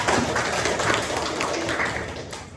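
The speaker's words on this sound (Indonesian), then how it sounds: "Beri tepuk tangan untuk Mbak Safira." A classroom of students gives a short burst of scattered clapping for a classmate, fairly close and moderately loud, fading slightly toward the end.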